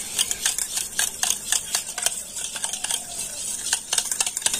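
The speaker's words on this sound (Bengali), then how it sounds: "আর একটা ব্লেন্ডার দিয়ে তো টক দইটা প্রথমে খুব ভালো করে আমি ফেটিয়ে নেব।" Sour yogurt whisked hard in a large bowl with a blender whisk, giving a quick run of scraping, clicking strokes at close range, with no talking.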